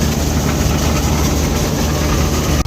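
A tractor engine rumbles loud and close in a village, a continuous heavy low drone with no break for the whole stretch.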